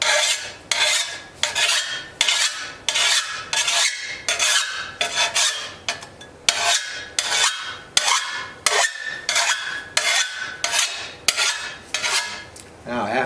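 A metal file rasps across the nicked, beveled front edge of a garden shovel in about twenty steady, rhythmic strokes, each a loud scraping pass followed by a short pause.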